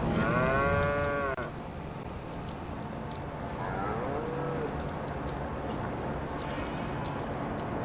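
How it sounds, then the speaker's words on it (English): Cattle in the Farming Simulator 25 video game moo loudly up close, with a long low call at the start and a fainter moo a few seconds later over a steady farmyard ambience. "I know the cows were pretty much all the way down on"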